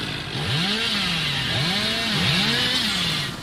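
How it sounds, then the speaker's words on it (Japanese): Chainsaw revving in the game Dead by Daylight, a loud, close engine whine that rises and falls in repeated swooping revs over a steady rough buzz, heard alone without talk. "このチェーンソー暴れうますぎるんだが。"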